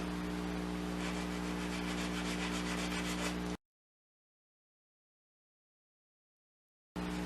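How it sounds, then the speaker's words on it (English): A sander runs over the edges of a wooden bar stool leg, a steady loud abrasive hum and rub for a few seconds, then cuts to silence before resuming briefly at the end. "I'll just hit it with a sander around over the edges a little bit, just so they're not sharp."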